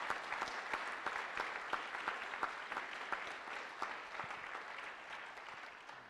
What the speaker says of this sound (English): please now give the Garrison team a round of applause for their hard work